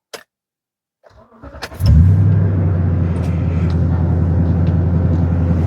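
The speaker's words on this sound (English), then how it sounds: "let's take a drive down the road and see if this little muffler that I put on here makes any" A Toyota Tundra fitted with an MBRP cat-back exhaust cranks and fires up after a few clicks, then settles into a loud, steady, deep exhaust rumble that holds to the end, with no voices.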